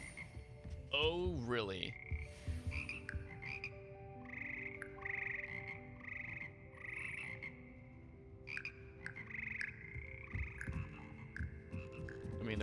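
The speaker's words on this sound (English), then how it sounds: "Here perch the slimy yet symphonic frogs that comprise the Hogwarts Frog Choir." The magical Frog Choir of Hogwarts Legacy croaks in layered, sung harmony, a dense chorus of pitched warbling croaks that carries on steadily throughout, with a brief spoken remark near the start.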